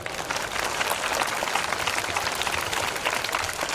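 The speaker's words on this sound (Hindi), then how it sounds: "उनसे आपसे मैं उम्मीद करता हूं कि उनके लिए तालियां बजा दीजिए" An audience at a school event applauds the teachers, dense continuous clapping from many hands heard at a moderate distance, steady and unbroken with no voices over it.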